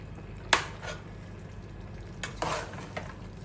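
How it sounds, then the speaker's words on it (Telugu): Ridge gourd curry being stirred in a pan: a sharp utensil scrape against the pan, then a few softer stirring clatters a couple of seconds later, over a quiet background hiss. "ఇది మంచిగా మనం ఒకసారి కలుపుకుందాము"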